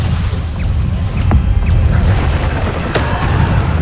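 Bombarda blasting spells exploding in Hogwarts Legacy, a dense run of deep booming blasts with crackling debris over a constant low rumble, loud and close, with no talking.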